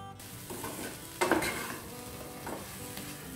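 Soya granules dry-roast in a pan, a soft close sizzle with a sudden scraping stir and rustle midway, then quieter stirring.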